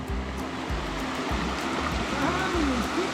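Continuous broadband rush of the cold Santa Barbara waterfall in Chapada dos Veadeiros, a steady roaring wash of water heard up close with no break.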